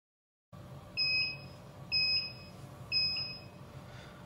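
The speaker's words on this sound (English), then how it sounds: "once you've got those 3 beeps again, it's ready to go" An aquarium probe calibration controller gives three evenly spaced electronic beeps about a second apart, clear and fairly quiet over a low background hum.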